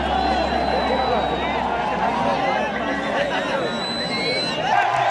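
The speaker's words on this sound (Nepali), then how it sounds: "देख्न सक्नुहुन्छ दर्शकको हुटिङ" Cricket spectators at the ACC Premier Cup final between Nepal and UAE hoot and chatter as ground covers are pulled off after rain, a steady crowd din with whistles rising over it.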